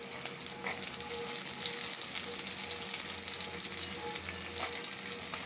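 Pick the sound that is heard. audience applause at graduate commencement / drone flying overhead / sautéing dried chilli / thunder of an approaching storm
sautéing dried chilli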